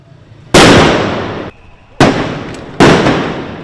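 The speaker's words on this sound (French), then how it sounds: "des grenades lacrymogènes ont été lancées dans le cadre d'un important déploiement de sécurité" Tear gas grenades fired during a protest in the streets of Nairobi amid a heavy security deployment: three loud, sharp bangs spaced about a second apart, each leaving a long noisy tail.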